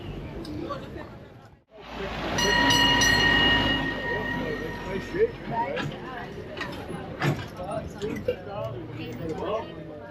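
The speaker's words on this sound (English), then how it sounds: "We are taking a train tour around town." A tourist train rolls around a Caribbean port town, its loud rumble and rattle steady throughout after a brief quiet dip, with a faint tonal whine above and people talking over the noise.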